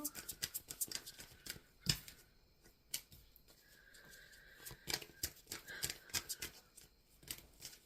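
Tarot cards are shuffled softly and close by, in quick irregular bursts of crisp riffling and tapping, with a faint voice at times.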